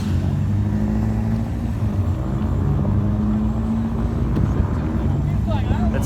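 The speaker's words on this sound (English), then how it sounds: "Max is doing a high rev." A BMW drag car sits at the start line with its engine held at high revs, a loud steady roar running throughout while crowd and commentary voices carry over it.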